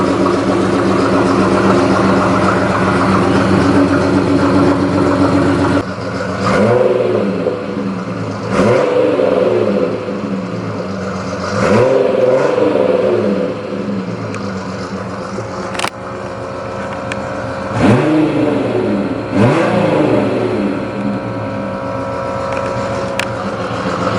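A car engine revs repeatedly in a garage as the car is moved out, loud and close, with several rising and falling sweeps of revving over a steady idle rumble.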